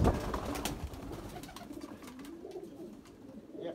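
Racing pigeons coo softly in a loft, low throaty burbling calls repeating close by over a faint background rustle.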